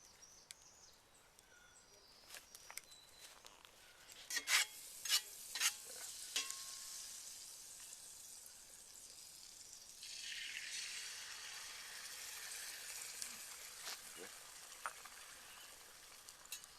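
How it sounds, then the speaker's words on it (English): Sausage patties and English muffins sizzle on a hot rocket stove outdoors, a soft steady frying hiss building louder partway through, with a few sharp pops and clicks and faint birdsong in the background. "You can hear things starting to sizzle."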